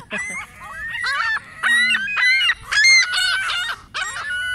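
Hungry pigeons making loud, close, repeated honking calls in quick bursts, with a faint voice briefly underneath.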